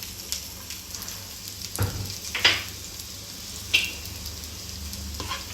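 Vegetables for spring roll filling fry in a tablespoon of oil with finely chopped garlic and a little ginger: a steady close sizzle with a few sharp clinks of stirring against the pan.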